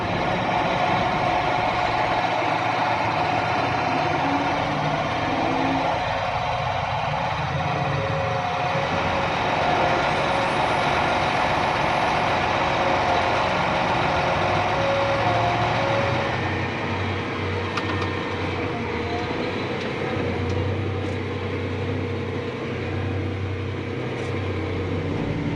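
A tractor powering the hydraulics and auger extension of an 1100 bushel grain cart, heard as a steady, loud mechanical drone with engine rumble and whining hydraulic tones throughout, a shifting hum toward the end.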